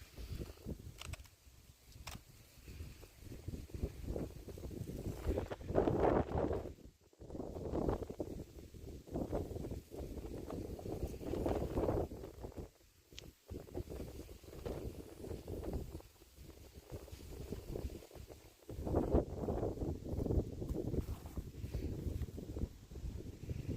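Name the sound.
strong wind blowing in an outdoor garden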